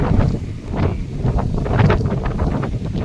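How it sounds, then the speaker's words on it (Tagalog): Steady wind buffets the microphone, a continuous low rushing roar with gusty fluctuations. "Hangin. Hangin."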